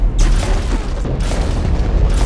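Cannon shots fire at a boss in the video game Lost Skies: loud, dense, overlapping booms rumbling continuously with no pause.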